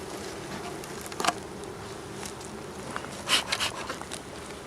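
Honey bees buzzing around comb frames during a hive rescue, a continuous hum of many insects close by, with a few brief handling knocks.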